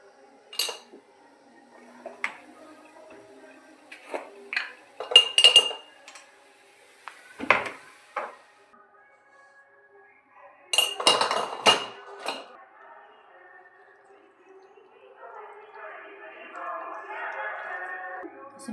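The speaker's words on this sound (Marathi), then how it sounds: "असं मिक्स करून घ्यायचं" A spoon scrapes and clinks against a bowl while rava batter with chopped coriander, salt and cumin is stirred in irregular bursts, with quieter stretches between and a softer, wetter mixing sound toward the end.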